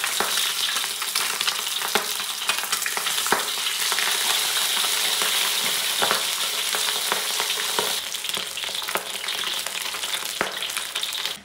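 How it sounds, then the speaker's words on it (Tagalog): Eggplant fries in a pan with a loud, continuous close sizzle and crackle, broken by occasional sharp spatters and light utensil taps, no voices. "So pipirituhin ko din to."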